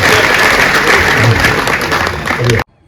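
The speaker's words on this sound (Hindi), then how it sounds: "एक बार ताली बजाकर बताएं आप इनको कितना प्यार है" Audience at a Hindi kavi sammelan poetry recital bursting into loud, dense applause and crowd noise for about two and a half seconds, then stopping abruptly into silence.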